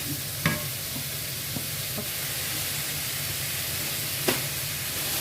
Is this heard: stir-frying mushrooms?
yes